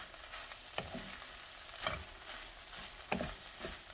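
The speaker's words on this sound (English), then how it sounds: "So once it's cooked, then start mixing it into the fried rice." Beef and rice stir-frying in a pan for beef fried rice, a steady soft sizzle broken by several sharp scraping stirs of a utensil against the pan, close and moderately loud with no voices.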